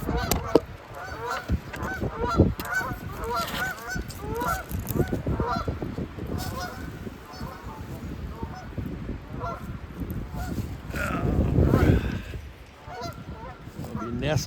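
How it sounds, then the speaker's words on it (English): A flock of startled geese near high water honks loudly and repeatedly for about fifteen seconds, with overlapping calls and flapping. Some honks are close, others a little farther off. "Scared the geese."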